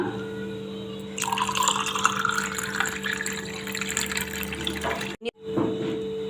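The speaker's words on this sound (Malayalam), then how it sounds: "ഇതിലേക്ക് തണുത്ത വെള്ളം ഒഴിച്ചു കൊടുക്കാം." Cold water pours steadily into a glass of nannari syrup for several seconds over a constant hum, then stops abruptly with a brief clatter.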